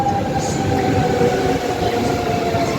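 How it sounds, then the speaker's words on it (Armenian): A train pulls into the station with a loud, continuous rumble and a thin steady squeal running over it, close by and sustained. "Լուսելի գնացքն եկավ"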